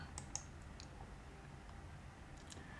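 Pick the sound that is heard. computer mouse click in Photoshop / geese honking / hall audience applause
computer mouse click in Photoshop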